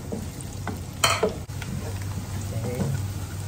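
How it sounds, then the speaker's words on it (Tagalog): Garlic and onion sauté in a pan ahead of medium shrimp, giving a steady close sizzle with brief louder stirring scrapes and no talking. "untayin lang natin maluto yung ating bawang"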